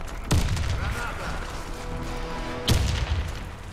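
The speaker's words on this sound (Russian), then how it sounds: "Осторожно, граната!" A grenade explosion and gunfire in the Warface video game, with two sharp loud booming blasts about two seconds apart over a continuous noisy battle background.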